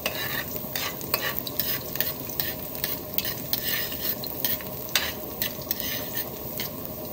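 Garlic fries in cooking oil with a soft, steady sizzle while a utensil stirs and scrapes the pan in quick, irregular strokes, close by and fairly quiet, with no talking.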